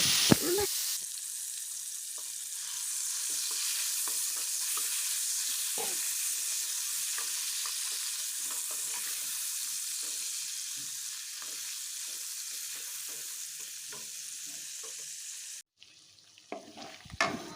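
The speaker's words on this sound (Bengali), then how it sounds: "মাছের তেলটা এখন একটু ভালো করে আমি ভেজে নিচ্ছি" Fish oil fries in a hot karahi, giving a loud, unbroken sizzle close by, with faint stirring clicks and scrapes for about fifteen seconds before the sizzling drops away and a few knocks are heard at the end.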